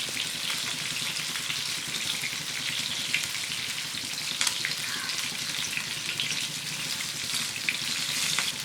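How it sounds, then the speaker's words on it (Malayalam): Pieces of fish fry in oil with a dense, continuous crackling sizzle, close and fairly loud, with a few sharper pops spattering through the hiss and nobody speaking. "ബാക്കിയുള്ള മീനും ഇതുപോലെ തന്നെ വറുത്തെടുക്കണം."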